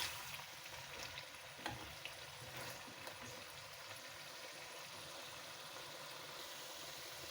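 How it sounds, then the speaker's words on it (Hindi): Meat and potatoes fry for aloo gosht in a steady, faint, broadband sizzle that runs throughout, with an occasional soft stir or clink and no talking. "कलर चेंज होने तक हम इसे फ्राई करते रहेंगे।"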